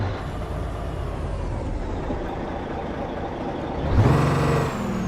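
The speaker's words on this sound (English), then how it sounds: "There's me over-revving the truck." A truck engine idles low for several seconds, then revs sharply to a high, strained whine before dropping back, in a video game.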